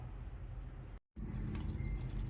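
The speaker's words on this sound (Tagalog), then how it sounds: "dahan-dahan lang ang lagay ng tubig dito sa taas kasi maraming electrical wiring, baka mabasa" Water from a hose poured slowly into the top of an LG washer-dryer, a steady close splashing trickle that cuts out briefly and then resumes with light dripping.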